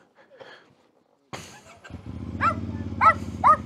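Three sharp, close dog barks come in a quick run over a low rumbling engine, with faint scattered sounds before them.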